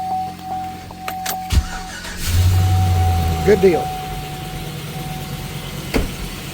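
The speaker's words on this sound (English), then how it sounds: "let's start this old cat-eye truck here. Let them warm up for just a minute." An old cat-eye Chevy pickup truck engine cranks briefly and catches, then settles into a steady low idle up close, with someone speaking a few words over it.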